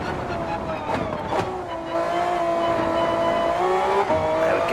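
A Honda NSX GT500 race car in Gran Turismo 7 on the Nürburgring brakes hard. Its steady, loud engine drone shifts pitch downward in stepped changes, like downshifts, with faint tyre noise underneath.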